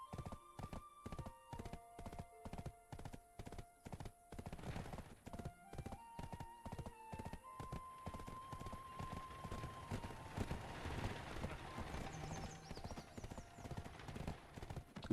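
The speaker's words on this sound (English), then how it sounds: "I hear the horses go by" Horses pass by in the video game Black Desert Online, their hooves clip-clopping in a quick, even rhythm that thins out partway through, over soft game music and ambience.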